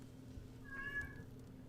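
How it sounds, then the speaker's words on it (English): An old cat gives a single short, faint meow in a quiet room. "And there's a cat here, apparently."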